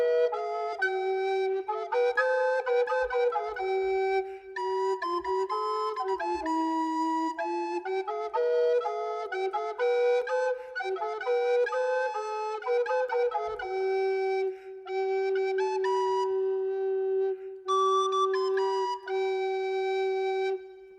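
A fourteenth-century English song, Lou, Lou, Lou, played as transcribed, with a sustained low drone and several melodic lines that move mostly in thirds and sixths. The music runs steadily and clearly throughout, with no talking.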